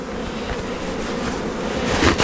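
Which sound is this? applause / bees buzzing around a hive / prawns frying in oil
bees buzzing around a hive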